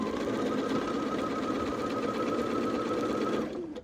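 A sewing machine runs steadily as it stitches a quilt seam, a continuous close whirring hum for several seconds that stops abruptly near the end.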